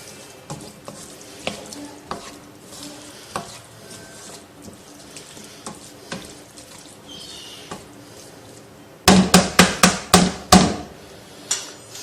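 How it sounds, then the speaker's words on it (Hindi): Potato and capsicum, finely chopped, frying and being stirred in a pan, soft sizzle with scattered scrapes, then a burst of several sharp, loud knocks of a spoon against the pan near the end. "ये 2 अदद शिमला मिर्चें हैं जिनको हमने इस तरह से काटा हुआ है। इनको अच्छी तरह से मिक्स कर लें।"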